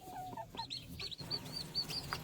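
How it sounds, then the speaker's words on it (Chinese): Young chicks peep in repeated high, thin chirps beside a Call duck mother on a cold, rainy day outdoors, with a few lower clucking sounds mixed in, fairly close and with no talking. "我听到小鸡的叫声呢"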